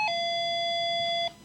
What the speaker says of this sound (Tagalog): Kita mo, meron pa tayong doorbell.